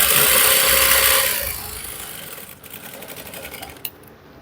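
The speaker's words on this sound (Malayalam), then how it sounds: "ഇങ്ങനെ 2 ഭാഗവും കറക്റ്റായിട്ട് മടക്കി സ്റ്റിച്ച് ചെയ്യാം കേട്ടോ." A sewing machine stitches folded fabric in a tailoring setting, running as a loud steady whir for about a second and a half, then fading and stopping, with faint handling clicks afterward.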